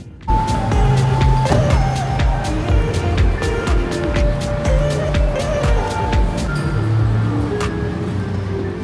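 A car drives along with a steady engine and road rumble, close and fairly loud, with scattered clicks and knocks from inside the cabin.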